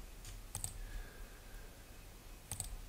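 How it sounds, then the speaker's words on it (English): A computer mouse is clicked in two quick double clicks separated by a short pause, crisp and close against a faint steady hum. "left click to set those in place"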